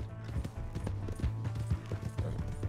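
Rhythmic clip-clop of horse hooves trotting in the Red Dead Redemption 2 video game, steady and moderately close, with faint ambient background.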